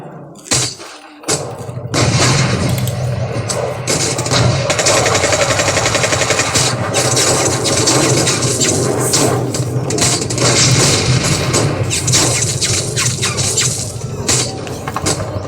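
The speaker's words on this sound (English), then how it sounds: "The thunderous exchange of gunfire and artillery reverberates" Dense, sustained gunfire and artillery battle effects for a drama about Indian Army soldiers in rocky terrain: rapid machine-gun bursts and heavy booming thuds fill the whole stretch, loud and continuous after a brief quiet start.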